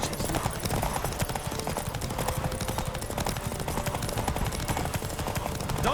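Horse hooves gallop during a race in the PS5 next-gen version of The Witcher 3: Wild Hunt, a dense, steady rapid drumming of hoofbeats under continuous game ambience, with no speech.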